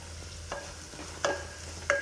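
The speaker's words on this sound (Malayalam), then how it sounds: "ഇത് ഏകദേശം ഒന്ന് ചെറിയ ഉള്ളിയുടെയൊക്കെ കളറ് മാറുന്നവരെ ഒന്ന് നന്നായിട്ട് വഴറ്റിയെടുക്കുക" Crushed shallots sautéing in a pan for a sardine curry, a steady soft sizzle with a few brief scraping stirs of a spoon against the pan, fairly quiet and close with no talking.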